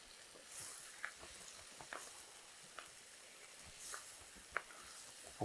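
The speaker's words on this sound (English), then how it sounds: "we're just going to finish sauteing it" Spinach sautes with salt in a pan, a soft steady sizzle with faint scattered pops and stirring scrapes, quiet and close.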